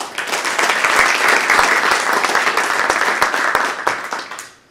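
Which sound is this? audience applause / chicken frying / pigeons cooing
audience applause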